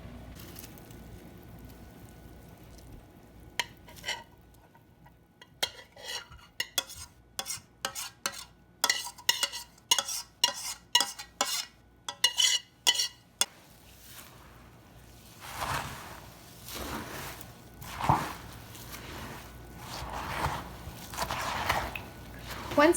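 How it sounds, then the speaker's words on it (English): Vanilla is stirred into a boiled mixture for a healthy make-ahead snack after the heat is turned off. A spoon scrapes and clicks rhythmically against the pot, then gives way to softer, wetter stirring, with a voice heard briefly. "Just gonna stir in some vanilla now that I've turned off the heat"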